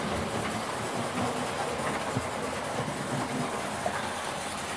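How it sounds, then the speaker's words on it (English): A 20-year-old Hornby Hawksworth County 4-6-0 model locomotive with a ringfield pancake motor runs steadily along its track, giving a continuous low whirring rumble with faint rail clicks at close range and no talk. "we're talking about a 20-year-old locomotive here, of course. With the ring-filled type pancake motor"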